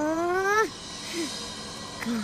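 A cartoon cat meows in an animated 3D Hindi children's story: one long rising-and-falling meow, then two shorter ones, loud and close over a steady music-and-effects background.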